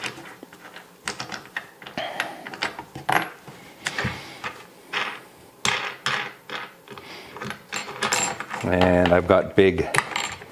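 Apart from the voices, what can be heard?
undoing bolts with wing nuts on a clay pigeon thrower base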